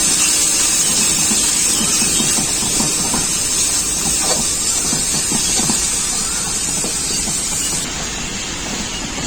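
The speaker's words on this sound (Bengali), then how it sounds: "খুব ভালো করে মশলাটাকে কষিয়ে নেব" Spice paste of coriander, cumin, Kashmiri chilli and turmeric sizzles in a pan while being sautéed, a steady loud hiss with crackling spits throughout, easing slightly near the end.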